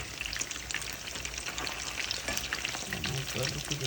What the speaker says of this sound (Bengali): দেখেন কতটা গোল্ডেন ব্রাউন করে উইংগুলি ভাজা হয়ে গেল